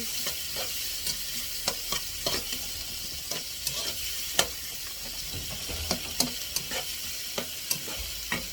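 Garlic or onion frying for fried rice sizzles in a steady bright hiss, with regular scraping stirs punctuating it every half second or so, close and continuous with no talking.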